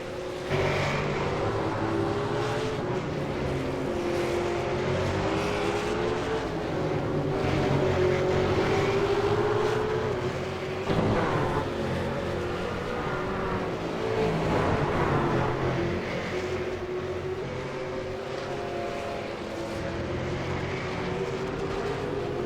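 V8 Supercars race cars lapping Road America in round 4 of the 2016 V8 Supercars America Series, a steady loud engine drone with shifting pitch as the cars run, continuous without pauses and no voices.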